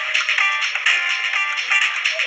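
Phone ringtone playing from a handset during a children's game, a bright repeating electronic melody of short pulsing notes, loud and close, with nothing else heard.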